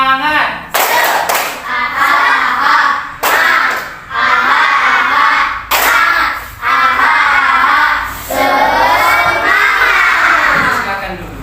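Schoolchildren in a classroom perform a rhythmic spirit clap chant, bursts of loud unison clapping with shouted chanting, repeated in several phrases separated by brief pauses.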